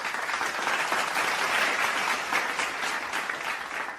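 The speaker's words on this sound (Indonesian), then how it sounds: "Beri tepuk tangan yang meriah." An audience at a school finance workshop gives steady, full applause that holds at an even level throughout without tapering.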